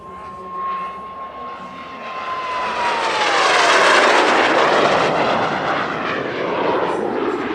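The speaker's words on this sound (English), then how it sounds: "next up, a very enjoyable solo display from an L-29 Delfin" An L-29 Delfin jet trainer flies a solo airshow display, its engine roar swelling as it passes close overhead with a falling whine, then fading into a broad rushing wash.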